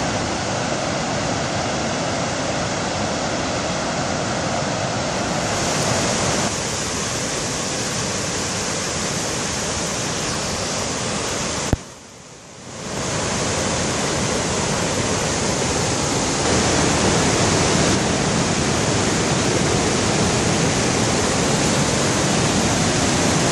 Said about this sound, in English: Gulfas waterfall. I think it means Golden Falls.